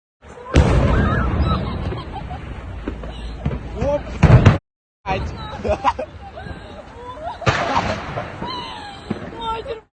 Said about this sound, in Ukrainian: місцеві жителі опублікували відео пожежі та потужних вибухів